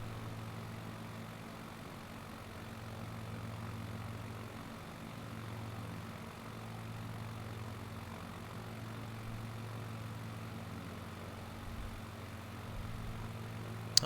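Twin-engine Cessna 421 propeller airplane cruising in a flight simulator, a steady droning engine hum with a constant low tone, even and unbroken throughout, no voices.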